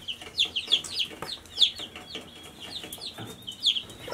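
Chickens of pullet size cluck and peep inside an indoor poultry facility, many short high calls overlapping at moderate distance over a low background hum, with no talk.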